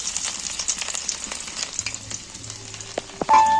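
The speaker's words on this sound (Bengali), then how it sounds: "আমি প্রথমেই তেলের মধ্যে আদা আর রসুনটা তুলে দিচ্ছি" Chopped ginger and garlic hit hot oil and fry with a steady, moderately loud sizzle, broken by a few sharp spits and crackles and a clatter near the end.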